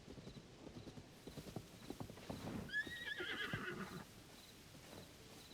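A horse in The Legend of Zelda: Tears of the Kingdom whinnies loudly in a rising, wavering call over busy clip-clop hoofbeats and game noise, lasting a couple of seconds.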